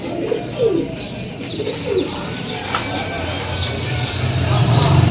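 Soft pigeon coos repeat a few times at close range at a Karachi bird market over a steady low hum of background noise, with faint chirps here and there.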